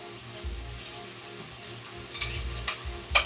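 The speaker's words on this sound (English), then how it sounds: "Flip over these sausages. Yeah, I didn't burn them. Nice. The perfect sear." Sausages fry in a pan, giving a steady close sizzle with a few sharper crackles and scrapes near the end.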